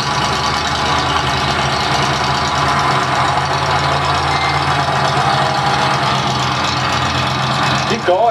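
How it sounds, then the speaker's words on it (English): A broken-down Ford truck running in three-wheel drive while stuck in mud, its engine droning steadily with a rough, knocking idle throughout, close and loud, with a voice briefly heard near the end. "Look at the three-wheel drive truck go."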